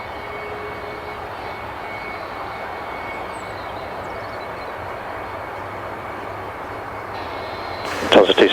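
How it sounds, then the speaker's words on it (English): Aircraft engine left running after a bird strike, a steady, even droning hum that holds at a constant level throughout, ending with a brief clatter. "you do realize the left engine is still running"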